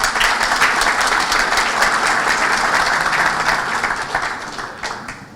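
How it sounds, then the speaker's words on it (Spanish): Conference audience at a national accreditation congress in Peru giving loud, sustained applause, a dense continuous roar of many hands clapping that fades slightly toward the end. "Le brindamos fuertes aplausos."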